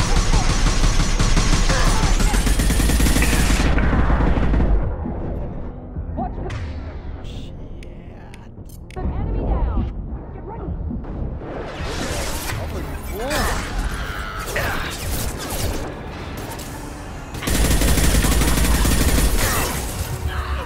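Mass Effect 2 combat with dense gunfire, heavy bursts, booms and shattering impacts in long loud stretches, easing into a sparser middle section before the barrage swells again, with music and effects layered throughout.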